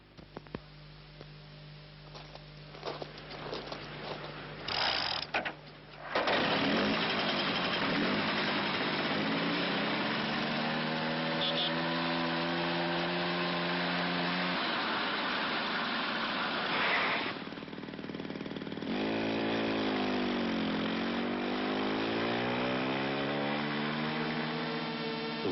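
A Peugeot moped's small engine running, a buzzing high-pitched drone that rises and falls in pitch as it revs, after a few seconds of clattering and scattered sounds, with no talking.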